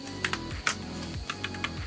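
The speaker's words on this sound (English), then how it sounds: "Why am I typing it over here?" Fingers tap quick, uneven bursts of keystrokes on a computer keyboard, crisp clicks up close in a quiet room.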